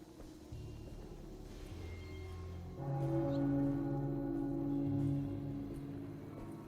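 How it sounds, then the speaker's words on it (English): Bicycle bell rung in the video game Alone in the Dark, a steady, sustained ringing tone over low ambient game rumble with no speech. "I like that you can ring the little bell on the bike."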